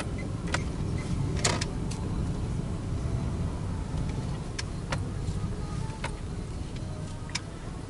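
A car driving slowly along a rough, muddy dirt road near a dacha, with a low steady engine rumble and repeated sharp knocks and rattles from bumps and jolts, close and continuous.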